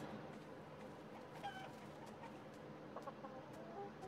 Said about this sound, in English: I had to get a level 140 chicken, didn't I?